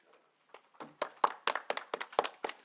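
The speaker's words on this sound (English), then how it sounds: "I like how they got a clap" Light applause at a press conference as the South African 4x100m relay silver medal team comes out, a brief smattering of claps that builds into a short, moderately loud burst.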